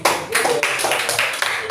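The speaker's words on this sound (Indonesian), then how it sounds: "Oke, tepuk tangan." Hands clapping briefly in a classroom group session, a short burst of several sharp claps in quick succession, close and fairly loud.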